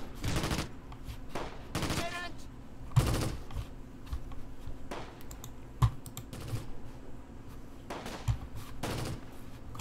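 Close Combat video game battle with Panzer Grenadiers opening fire, heard as repeated bursts of gunfire crackling at irregular intervals among fainter sharp clicks and scattered shots.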